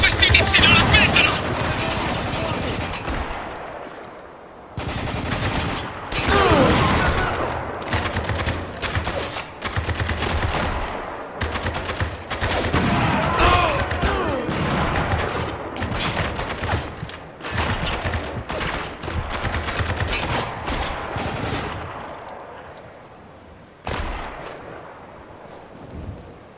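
Gunfire in Spec Ops: The Line comes as repeated loud bursts and booming shots in a chaotic firefight, with short lulls between volleys and shouted voices beneath the shooting.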